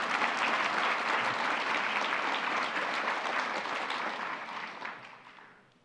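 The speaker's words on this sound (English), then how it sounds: "And it's just another round of applause for all three of you." At a William J. Donovan Award ceremony, an audience applauds three award recipients with full, sustained clapping that fills the room before tapering off at the end.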